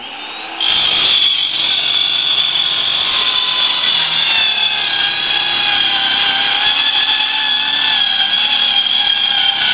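A power saw cuts through a fresh sheet of plywood on a workbench, a steady loud whining buzz that starts abruptly and holds close and continuous, with no voices.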